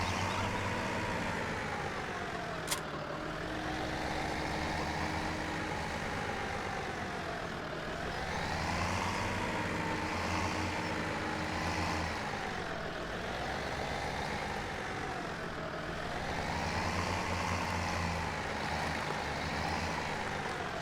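A four-wheel-drive tractor engine in the video game Farming Simulator 17 runs as a constant low drone that swells and eases in slow, regular waves, with no one talking.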